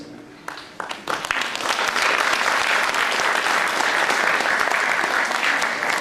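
Audience applause in a church parish hall during a tribute event for mothers, starting with scattered claps and swelling into steady, dense clapping from a sizeable crowd that holds for several seconds.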